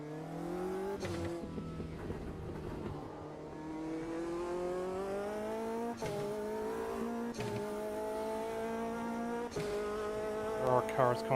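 Several race car engines from the Automobilista 2 racing game close in from behind, a sustained buzzing whine with climbing harmonics that rises and dips through gear changes and stays loud and steady throughout.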